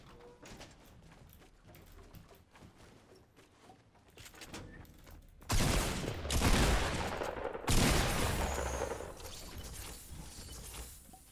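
Fortnite gunfire starts as scattered faint shots and clicks, then two loud, dense bursts of rapid firing ring out with noisy tails, each cutting off abruptly.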